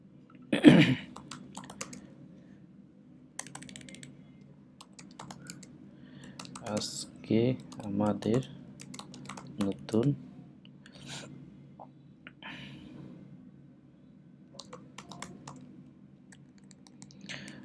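Typing on a computer keyboard, with scattered close key clicks in irregular bursts, some denser flurries, and a faint hum beneath.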